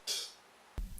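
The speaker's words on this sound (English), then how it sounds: "We also have an open hat that sounds like this" A single open hi-hat from a vintage-style beat rings out as a bright, hissy hit and decays over about a third of a second, then a low thud enters near the end.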